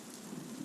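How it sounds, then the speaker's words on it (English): Steady rain falls with a soft, even hiss, faint and continuous, with no voices over it. "Ah, damn this rain."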